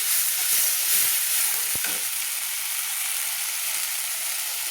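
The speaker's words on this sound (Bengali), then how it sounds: "দিয়ে ভালো করে আমি মশলাটা সুন্দর করে তেলের মধ্যে কষিয়ে নিচ্ছি" Spice paste with coriander powder frying in oil, a steady loud hiss and sizzle throughout, with one brief knock of the spoon early on and no voices.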